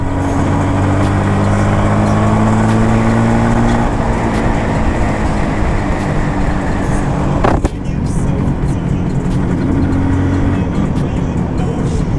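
An IZh Jupiter-6 motorcycle engine runs steadily during a test ride, a loud continuous mechanical drone with faint shifting tones and a brief disturbance partway through.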